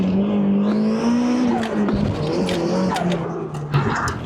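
A 1990s engine-swapped old-school car without ABS on a drag race run, its engine droning steadily close by while the tires briefly lock up and chirp, with no one talking.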